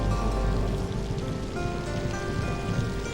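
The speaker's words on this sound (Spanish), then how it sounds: "En octubre llegan los monzones a Borneo. Entonces no para de llover" Monsoon rain pours steadily over the Borneo rainforest, a dense, loud, continuous hiss of drops striking leaves and surfaces with no voices.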